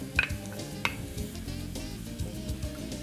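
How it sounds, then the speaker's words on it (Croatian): Quartered button mushrooms are tipped into a pan of frying bacon and onion, giving a couple of sharp clacks followed by a quiet, steady sizzle and soft stirring. "dodamo ih na slaninu i luk"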